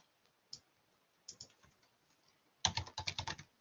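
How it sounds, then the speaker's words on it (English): A computer keyboard clicks: a few isolated keystrokes, including a shift key press, then a quick burst of close, crisp typing near the end, with no talking. "I press a shift key on my keyboard"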